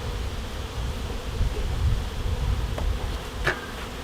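Honey bees inside a hive building comb, a dense, steady buzzing drone close by that holds throughout, with a faint tap or two near the end.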